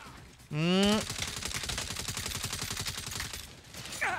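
Rapid automatic gunfire in the Saints Row video game, a dense rattling burst lasting a few seconds after a short rising electronic tone, fairly loud and steady with no voices over it.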